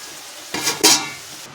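Fish fried in oil in a pan, turned over while water and salt cook off, giving a short burst of loud sizzling and stirring that fades quickly.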